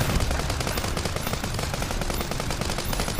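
Rapid SMG gunfire in the video game Armored Head, a dense continuous burst of shots filling the whole stretch at steady loudness with no talk.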